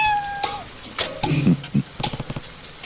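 A cat meows in Like a Dragon: Ishin, a few short close mews and purring chirps in quick succession, clear and fairly loud, with no talk over them.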